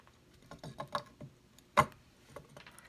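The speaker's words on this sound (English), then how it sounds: "I'm going to set this down in and start putting the screws in." Screws being fitted into a rusty aftermarket bridge on a Fender Squier Stratocaster, heard as a run of quiet, close mechanical clicks and small metallic taps, with one sharper tap near the middle.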